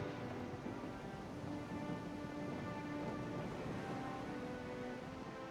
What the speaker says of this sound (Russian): Капли дождя барабанят по палубе